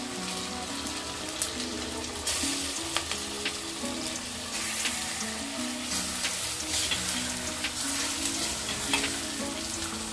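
Village-style chicken gravy masala frying and being stirred in a pan, a loud continuous sizzle with scraping and stirring strokes throughout, close up and without speech.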